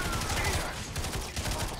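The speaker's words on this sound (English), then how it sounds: "So I got a shotgun. This is a shotgun." Shotgun blasts sound in the video game LawBreakers, several loud booming shots in quick succession layered with other gunfire in a busy firefight.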